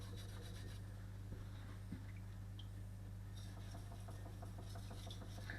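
Fine strokes of a chef knife's micro bevel being polished on a sharpening stone give a soft, steady rubbing and scraping, close up and fairly quiet over a constant background hum.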